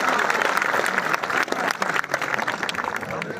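Audience applause at a prize-giving gathering, dense rapid clapping from a crowd that continues steadily for a few seconds with some voices mixed in.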